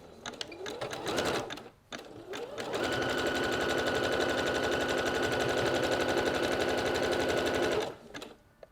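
A sewing machine stitches a line through lace on a bra piece: two short whirring bursts, then one long, steady, close rattling run that stops abruptly.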